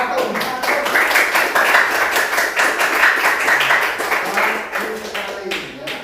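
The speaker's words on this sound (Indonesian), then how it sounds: "Tepuk tangan untuk kelompok 1." A classroom of students claps for a presenting discussion group, a brisk, dense patter of hands filling the room for several seconds with some voices underneath.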